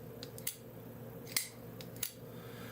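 A titanium button lock knife with a titanium backspacer and clip drops its blade open, giving a few crisp metallic clicks spaced apart over a quiet, faint background.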